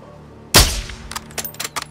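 Gunfire from Call of Duty Modern Warfare 2 (2022) gameplay: one loud, sharp shot with a short decaying tail, followed by several fainter crackling impacts and clicks.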